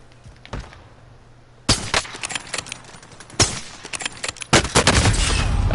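Rifle shots in a video game, several sharp cracks spaced irregularly, the loudest bursts close and punchy, with rattling echoes and a busy game-fight background between them.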